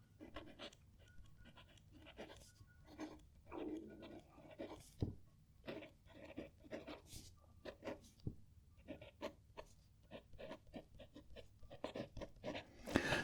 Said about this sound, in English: So let's write with this.